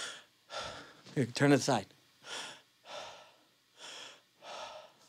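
A singing teacher demonstrates belly breathing, pushing out strong audible breaths in and out in a steady rhythm of about six puffs, close and fairly loud. A short spoken remark falls between the breaths.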